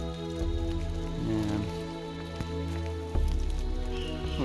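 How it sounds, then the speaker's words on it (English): Rain patters steadily on surrounding leaves and foliage of an overgrown rainforest track, with rustling and heavier splashes as branches are pushed aside, close and fairly loud. "Started to rain again"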